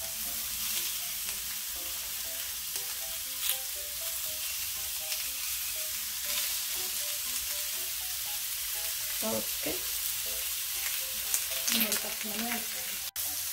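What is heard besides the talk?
homemade hamburger patty sizzling on the grill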